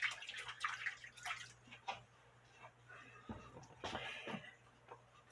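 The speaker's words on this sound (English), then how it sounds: "Rinsing it off." Water runs and drips as a cuckoo clock hand is rinsed off after washing with plain soap, a faint splashing trickle with a low steady hum underneath.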